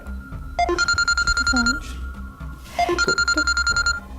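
Two bursts of an electronic phone ringtone, a chiming pattern of stacked high tones, sound at moderate level in an indoor room, with brief speech between the rings.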